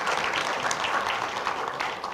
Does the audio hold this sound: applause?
yes